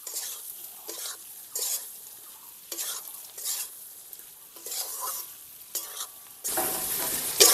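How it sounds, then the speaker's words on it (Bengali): Fried jackfruit being stirred into a spice masala in a pan, with repeated scraping and stirring strokes over a steady sizzle. The frying grows louder and brighter near the end. "এঁচড়টাকে দিয়ে ভালো করে মশলা মিশিয়ে নেব।"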